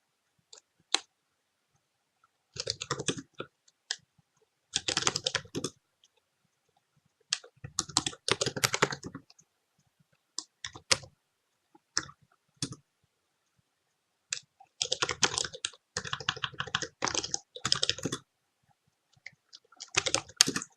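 Course codes being typed on a computer keyboard, heard as close, crisp clicking in irregular bursts separated by brief pauses, with no talking.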